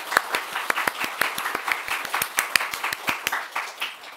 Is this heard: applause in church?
yes